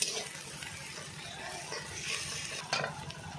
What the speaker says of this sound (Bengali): রসুনটাকে ভালো করে পেঁয়াজের সঙ্গে কষাতে হবে